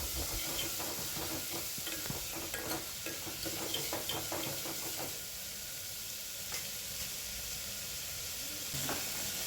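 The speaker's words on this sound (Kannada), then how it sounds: "ಟೊಮೆಟೊನ ಇದರಲ್ಲಿ ಎಣ್ಣೆಯಲ್ಲಿ ಸ್ವಲ್ಪ ಬಾಡಿಸ್ಕೊಳ್ಳೋಣ." Tomatoes sautéing in hot oil in a pan for sambar, a steady close sizzle and hiss throughout with occasional stirring scrapes and clinks, no voices.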